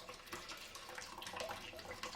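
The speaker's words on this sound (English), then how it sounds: "So just let that drain off a little bit." Hot hop bag lifted from the boil and left to drain back into ale wort during extract brewing, a steady close trickle of liquid running and dripping into the pot with no talk.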